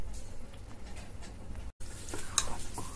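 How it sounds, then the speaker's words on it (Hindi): A spoon stirs raw rice and pumpkin chilla batter in a bowl, a soft continuous wet scraping and swishing, close and steady, with a brief break midway. "अब मैं इसे मिक्स कर लेती हूँ"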